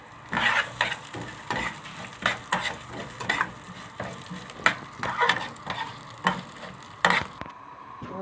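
Vermicelli browning in a pot for lentil soup, a steady close sizzle broken by repeated stirring scrapes of a spoon in an irregular rhythm, with no talking.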